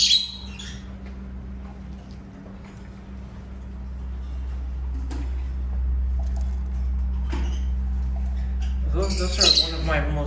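Lovebirds in aviary cages squawk and chirp, scattered calls over a low steady hum, with a busier burst of chirping near the end.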